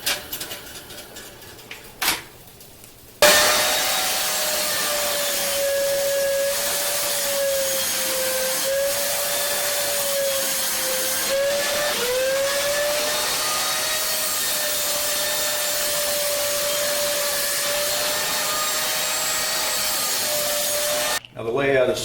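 A saw cutting through MDF board in a woodworking shop: a loud, steady, continuous whine with a slight wavering pitch runs for about eighteen seconds after a short quieter lead-in, then cuts off abruptly.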